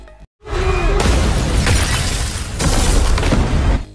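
After a brief silence, a grenade explosion bursts out loudly, followed by harsh, crackling roar and debris-like noise that cuts off abruptly.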